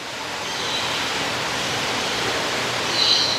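Steady broadband rush of falling water from a waterfall inside a large indoor bird aviary, continuous and fairly loud throughout, with no voices.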